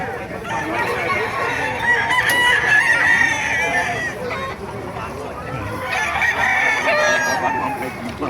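Several roosters crow in overlapping, drawn-out calls amid constant clucking and chatter of many chickens, a busy, loud poultry market in Bocaue, Bulacan.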